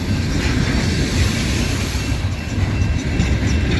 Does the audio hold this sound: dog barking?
no